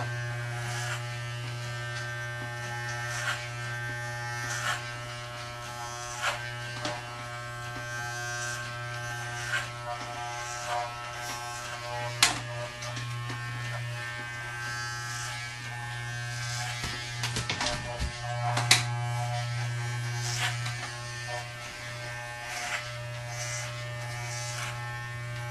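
Electric hair clippers with a number 2 comb cut short blonde hair, a steady close buzz with small changes in pitch and a few soft scraping ticks as the blade passes through the hair.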